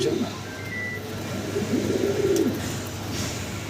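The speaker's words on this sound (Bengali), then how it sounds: "এই যে এখন যেটা সামনে এটা হচ্ছে নটটা কবুতর" Low, warbling pigeon cooing swells across a few seconds against a steady background hum, fairly close and moderately loud.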